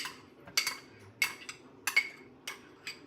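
Butter, sour cream, salt and pepper being mixed into potatoes: a utensil clinks against the bowl in a steady rhythm of sharp, quiet taps, about once every half second, close by.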